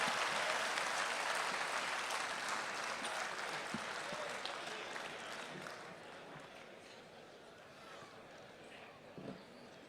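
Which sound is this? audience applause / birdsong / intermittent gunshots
audience applause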